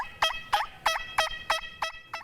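Turkey call handmade by a Botetourt County, Virginia craftsman, giving seven sharp, evenly spaced gobbling yelps that ring close and loud with no voices around them.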